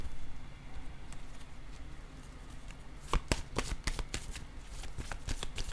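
Tarot cards being handled and shuffled close up, a soft papery rustle building into a quick run of riffling snaps over steady background noise.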